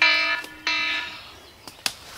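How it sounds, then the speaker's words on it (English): An electronic alarm beeps in a harmonic-rich tone during a 2018 Wisconsin spring turkey hunt, two sustained loud bursts close by, then a few faint clicks and knocks as it falls quiet. "Oh, there's an alarm. I forgot to shut that off"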